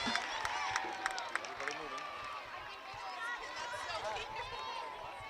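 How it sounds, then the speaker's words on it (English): Crowd at a softball championship game applauding and cheering in a steady wash of claps and voices, with an announcer talking over it. "That's a good applause from the crowd."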